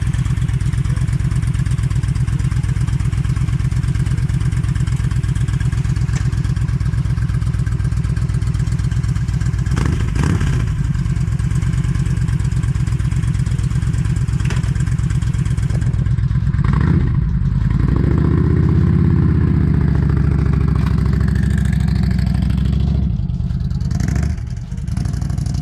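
A Yamaha V Star 1300 motorcycle fitted with a Cobra slip-on exhaust rumbles loudly and steadily up close, with a deep throb that shifts and swells as the engine revs near the end.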